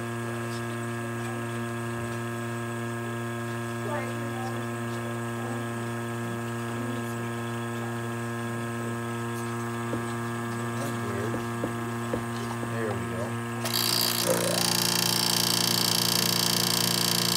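Steady mechanical hum of a running dental lab vacuum mixer with faint clicks and knocks, rising to a louder, harsher whine near the end.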